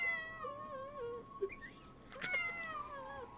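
A cat held in someone's arms lets out long, wavering, drawn-out meows and caterwauls, close and fairly quiet, with a short break in the middle before another plaintive cry.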